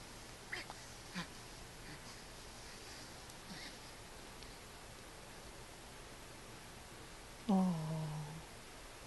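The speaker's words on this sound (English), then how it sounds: "Is the kitty being nice? Are you being nice to the kitty?" A kitten gives a single short, clear meow near the end after a long quiet stretch, with a few faint soft bumps earlier and no talking.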